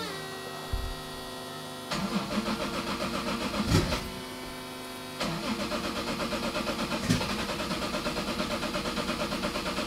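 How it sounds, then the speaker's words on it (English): Car engine cranking and catching twice, just after new 2200cc fuel injectors were fitted, settling into a steady close idle hum between the starts, outdoors in hot weather. "go install these in the car and make sure the car runs before I do some other things"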